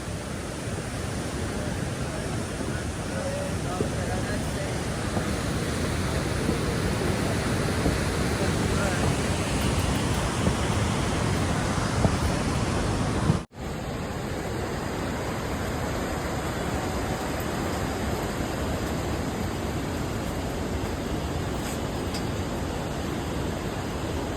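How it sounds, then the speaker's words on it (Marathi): Loud, steady rushing of river water along the Kedarnath trekking route, a dense continuous roar throughout with wind buffeting the microphone and a brief cut midway. "पाण्याचा आवाज जास्त आहे उलटा माझ्या आवाजापेक्षा."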